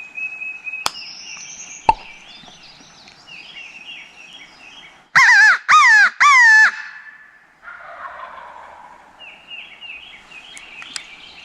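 Three loud, harsh caws from a hunter's crow call ring out close together in quick succession during a spring turkey hunt on a hardwood ridge in Kentucky, set against faint birdsong in quiet woods.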